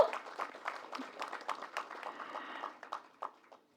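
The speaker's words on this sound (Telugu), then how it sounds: "ఒకసారి గట్టిగా క్లాప్స్ కొట్టేసి మన రెస్పాన్స్ చెప్పేద్దామా?" An audience at a Telugu movie event claps after the Zamana trailer, a quiet, fairly distant patter of applause that thins out and fades within a few seconds.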